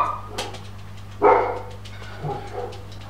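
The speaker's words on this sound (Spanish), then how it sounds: "El perro venía a ladrar." A dog barks several times, with short, sharp yaps spaced out over a quiet background, one bark standing out louder in the middle.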